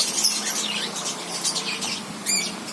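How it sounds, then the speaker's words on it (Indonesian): A parrot-like bird gives harsh, high squawks against a soft background of other birds, with a sharper burst near the end; the calls sound fairly close and moderately quiet. "Seperti burung kakak tua sih, tapi nggak tahu burung apa."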